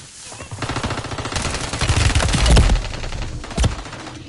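Rapid automatic gunfire in the Warzone Rebirth video game, dense bursts of shots building to a loud peak with a sharp final crack, and voices talking faintly underneath.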